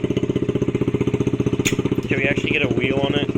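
A Honda CRF50 dirt bike engine runs close by with a fast, steady, pulsing putter, briefly rising as it is revved while people talk over it.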